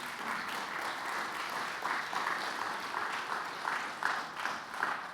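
A room full of people clapping, steady applause that swells slightly in pulses and carries on for several seconds.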